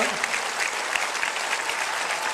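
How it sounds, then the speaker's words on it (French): Audience applause for a visiting evangelical choir at a live church concert in Mulhouse, France, a dense, steady burst of clapping filling the room. "Applaudissons-les bien fort."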